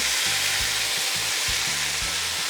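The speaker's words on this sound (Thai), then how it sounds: "ทอดประมาณสองนาทีก็เอาขึ้นเลยเนาะ" Tofu frying in hot oil gives a loud, continuous crackling sizzle with a low bubbling undertone, steady and close throughout.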